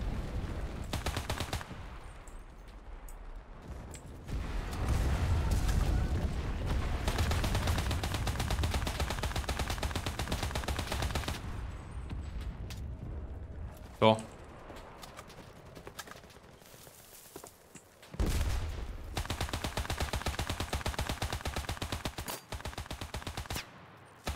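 Heavy gunfire and explosive blasts from an Enlisted video game battle, an Italian tank firing HE shells at infantry, with repeated bursts and booms over a rumbling background, loud and continuous.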